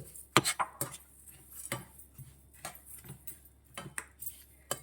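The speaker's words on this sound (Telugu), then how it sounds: "ఇప్పుడు ఫ్లేమ్ తగ్గించుకొని గింజలు వేసేసుకుందాం వేసేసుకొని ఫాస్ట్ ఫాస్ట్గా కలిపేసుకోవాలి" Seeds being stirred fast into hot sugar syrup over low flame for chikki, heard as quick, uneven clacks and scrapes of a spoon against the pan, close and fairly quiet.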